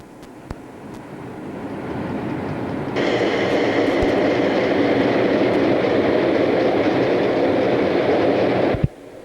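A 1990s train runs through the Revoltella spiral tunnel on the steep Trieste railway, a steady loud roar of wheels and rails that swells sharply at about three seconds, with a few clicks, then cuts off abruptly near the end.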